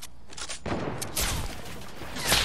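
Rapid gunfire bursts in a Fortnite Battle Royale match, dense crackling shots with a sharp onset partway through and sustained firing to the end, no voices.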